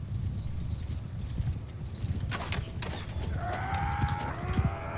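Cavalry horses from the Mount and Blade 2 game clip-clop in a steady, dense patter over a low rumbling bed. Metallic creaks and a brief whinny-like tone rise near the end.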